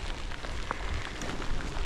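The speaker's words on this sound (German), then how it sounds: "Und schon wieder Regen." Steady rain falling outdoors on an Easter Sunday street, a dense even hiss of drops close by with no break, no one speaking.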